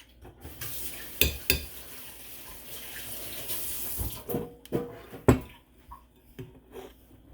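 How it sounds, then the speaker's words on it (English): Hands are washed under a running kitchen tap, a soft steady water flow broken by several louder splashes and clunks near the sink, with no talk heard. "I'm washing my hands"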